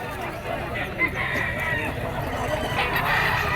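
A pumpkin sweater gamefowl, yellow-legged with a pea comb, crows against a steady background murmur of a busy outdoor market, its call partly masked by surrounding noise.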